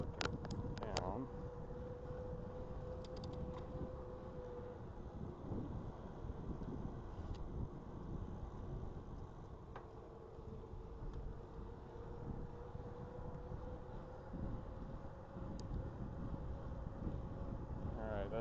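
Continuous wind buffeting a small action camera microphone while riding outdoors, a steady loud low rumble throughout with faint intermittent tones and a person talking under it.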